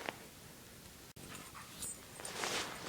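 Dogs pant eagerly in the snow before a snowshoe hike, quick soft breaths close by with a faint whimper and some rustling, fairly quiet throughout.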